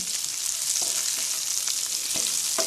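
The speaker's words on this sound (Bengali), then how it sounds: "এইভাবে একটু পর পর নেড়ে চেড়ে দিতে হবে" Raw mango pieces stirred in a pan over low heat with no water added, a steady bright frying hiss throughout and occasional soft scrapes of the spoon against the pan.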